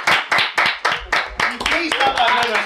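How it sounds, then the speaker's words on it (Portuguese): A small group claps for a sponsor during a comedy podcast in Curitiba, with distinct, fairly close bursts of clapping in an uneven rhythm and someone talking over the later part. "Uma salva de palmas, produção aí"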